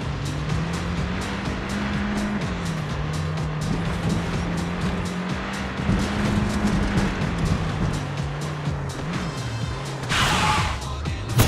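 A car races along in the video game Far Cry 6, the engine droning steadily with shifting pitch as it speeds, joined by a brief splash-like burst near the end.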